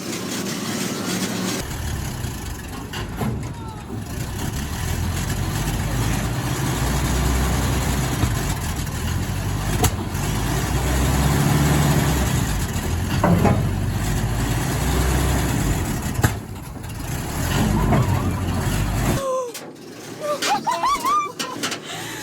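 A 1941 Snow Go Tarmac snowblower engine runs steadily and loudly for most of the stretch after a rough start, then cuts out near the end, with excited shouting and talk over the running engine.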